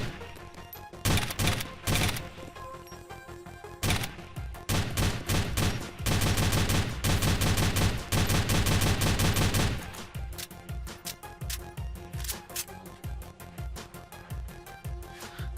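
XM8 assault rifle fire in a video game shooter, loud close bursts of rapid automatic shots, some long sustained strings and some shorter rattling bursts, with brief pauses between them.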